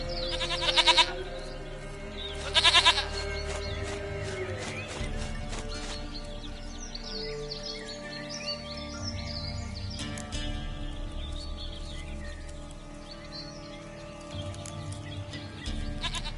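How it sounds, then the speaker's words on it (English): A goat in The Witcher 3 gives two loud, wavering bleats close by, spaced about two seconds apart, over a steady bed of ambient game noise with faint background sounds and no talking. "Goat of mine, dearest, sweetest goat."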